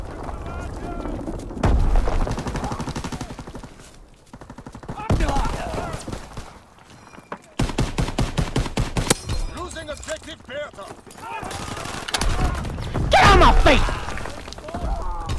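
Chaotic Call of Duty WWII firefight on the Shipment 1944 map: repeated loud bursts of rapid automatic gunfire alternating with single shots and brief lulls, with a player talking and exclaiming over the shooting.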